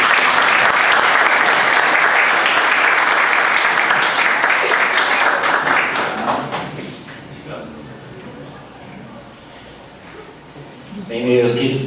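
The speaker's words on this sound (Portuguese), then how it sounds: "palmas para ele, gente." An audience in a spiritist gathering hall bursts into loud, sustained applause that fades after about seven seconds, followed by quieter room noise and a voice starting to speak at the end.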